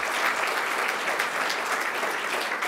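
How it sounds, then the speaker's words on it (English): Steady applause from an audience at the Inspiring Aberdeenshire 2023 event, a dense, even wash of clapping filling the whole stretch at moderate level with no talk over it. "Give them a round of applause."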